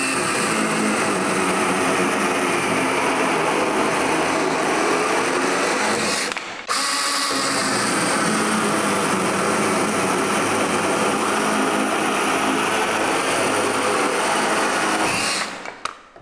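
A cordless battery pole saw with a brushless motor cuts through a branch, a loud continuous buzzing whine that stalls briefly partway, then resumes steadily before stopping at the end.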